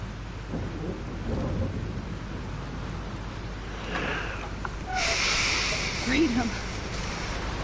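Thunderstorm in the video game Life is Strange: steady rain wash with low rolling thunder rumbles, a brighter crackling burst midway, and faint game sounds over the storm bed.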